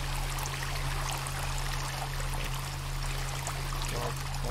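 Continuous rushing river water in the video game Sons of the Forest, a steady near stream with a low droning hum beneath it.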